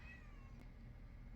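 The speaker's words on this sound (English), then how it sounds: "That's my cat." A male house cat gives a faint, drawn-out meow indoors, a single thin call rising over a steady low background hum with no talking.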